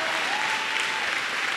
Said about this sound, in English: Clap your hands for him.